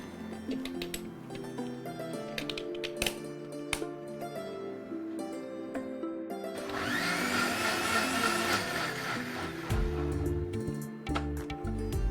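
A blender whirs through a millet drink with ice cubes, starting after a stretch of background music and running as a loud, steady grinding roar for several seconds before easing off.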